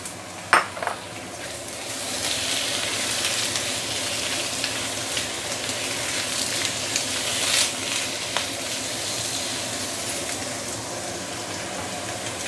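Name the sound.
frying beehoon rice noodles with cabbage in a wok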